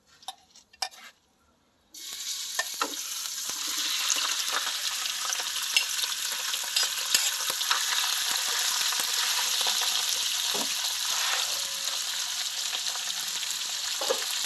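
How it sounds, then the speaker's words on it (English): Ox kidneys dropped into hot melted fat, a few clattering bumps followed by a sudden, steady loud sizzle and crackle of frying that continues unbroken. "So now the fat has melted. Now I'm going to add in my kidneys."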